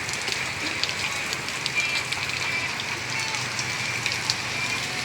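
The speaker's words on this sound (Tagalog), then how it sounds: "Maulan nga panahon. Maulan nga umaga." Steady rain falls on a rainy morning, a continuous close hiss of drops with faint patters throughout.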